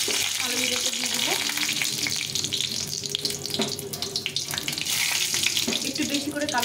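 Dried red chili and nigella seeds dropped into hot oil give a steady, close sizzle and crackle that runs the whole time, with a faint clink of utensils now and then.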